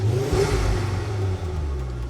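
Ford Focus ST-2 engine, cold and bought cheap as spares or repairs, revving on the throttle: a steady mid-pitched hum with a slight rise and fall, close by, with no voices.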